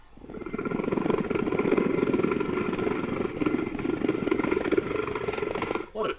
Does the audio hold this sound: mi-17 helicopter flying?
yes